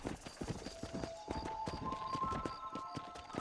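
A horse gallops in Red Dead Redemption, its rapid rhythmic hoofbeats close and steady with a faint tonal hum underneath.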